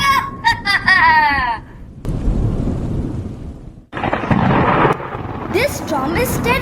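Thunderstorm sound effect played in a stage drama, with deep rumbling thunder and rushing noise in loud surges. Wailing, moaning voices cry over it at the start and near the end.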